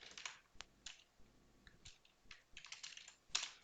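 Fingers type CSS code on a computer keyboard in quick, irregular clusters of light, close key clicks with brief gaps between them.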